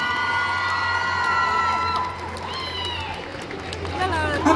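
An audience at a cosplay contest in Paris cheers, whoops and applauds. The crowd noise swells and stays lively, with a voice carrying over it.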